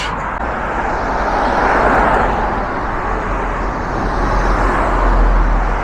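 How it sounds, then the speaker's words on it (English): A bus drives away along a road in Ireland, a loud, steady rumbling roar of engine and tyre noise that holds throughout, with no talk. "there's my bus heading up to"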